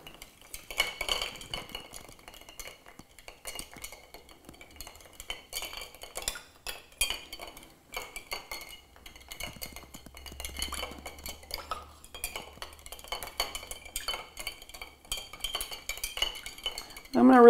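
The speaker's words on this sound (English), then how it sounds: "We are going to grab a spoon and we are going to stir it." A metal bar spoon stirs a Corn 'n Oil cocktail over ice in a glass, giving a steady run of light clinks and rattles of ice against glass and metal, close and fairly quiet, with a brief voice near the end.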